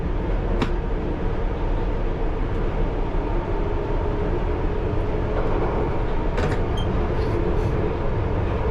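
A London Underground Piccadilly Line train travels between Arnos Grove and King's Cross, a loud, continuous rumble and roar of wheels on track, with a few sharp squeals and clicks along the way.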